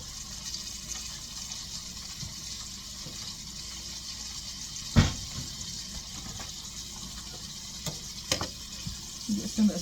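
Southern fried chicken frying in a pan on medium-high heat, giving a steady soft sizzle throughout with a couple of brief louder knocks of kitchen handling.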